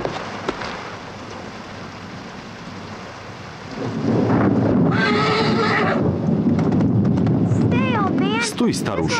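Thunder and rain hiss at first, then a horse whinnies loudly in a long, wavering neigh, followed by sharper snorting calls amid the storm.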